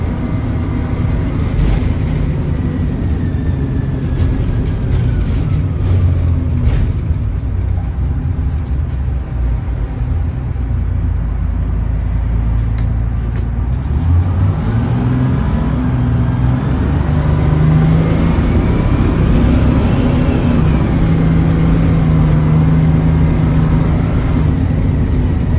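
1980 Crown bus engine pulling steadily while driving, heard from inside as a loud continuous low rumble with rising and falling pitch sweeps as it works through gear shifts.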